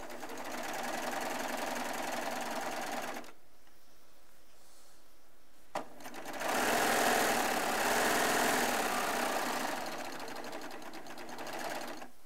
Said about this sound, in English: Yep, perfect stitches. It's one thing I love about Baby Lock sergers.